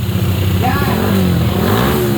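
Motorcycle engine revving at a drag-racing event in the Philippines, a rising and falling mid-pitched whine that swells and fades over steady background noise and crowd chatter.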